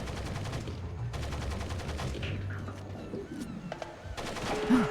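Automated turret in Splinter Cell Pandora Tomorrow firing rapid bursts of mechanical gunfire, two sustained volleys with a pause between, mixed with game effects and mechanical clanks.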